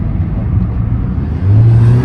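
A modified car floored briefly from low speed in its regular drive mode, a steady low engine drone that swells louder and deeper toward the end as the throttle opens, with a faint turbo whir.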